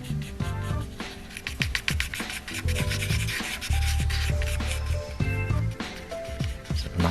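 Charcoal scratches and rubs across scratchy painted cardboard in a steady, dry, close drawing sound with quick strokes, while soft music plays underneath.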